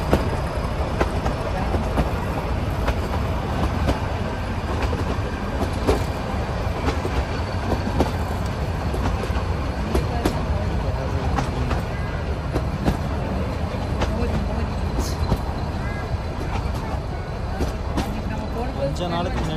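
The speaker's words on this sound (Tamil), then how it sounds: "ட்ரெயின் கிளம்பிருச்சு." A toy train on the Ooty to Coonoor mountain line runs steadily with a rhythmic clickety-clack and a constant mechanical rumble, close and loud throughout, with muffled voices underneath.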